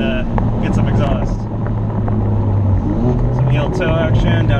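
A 2016 Chevrolet Camaro's engine and exhaust drone loudly and steadily from inside the car, the pitch stepping up and down with the revs while someone talks over it.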